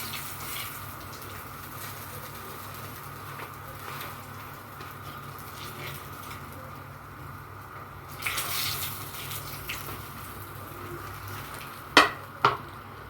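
Breaded fish fillet fries in a pan with a steady, moderate sizzle and hiss, broken near the end by a couple of sharp utensil clatters.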